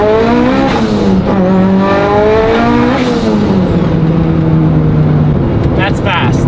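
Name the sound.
Mitsubishi Evo 8 engine at full boost on a dyno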